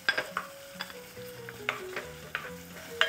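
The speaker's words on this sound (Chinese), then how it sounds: "先把肉煸炒一下" Minced meat stir-fried in a pot with scallion for a spicy soft tofu stew: soft sizzling with scattered clinks and scrapes of a spatula, close and fairly quiet, no talk.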